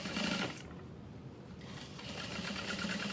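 A sewing machine runs in short bursts as it back stitches a Freesia Foldover bag, a steady mechanical whir that pauses briefly and then resumes, close by with no talking.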